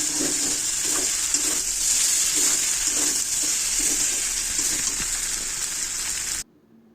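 Pasta ingredients fry in a pan, a loud steady sizzle close up with light rhythmic stirring scrapes, cutting off abruptly at the end.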